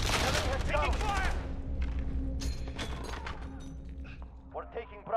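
Gunfire in Call of Duty: Modern Warfare multiplayer Domination on the Cheshire Park map: a dense burst of shots up front fades into scattered distant pops and game sounds, with a voice calling out.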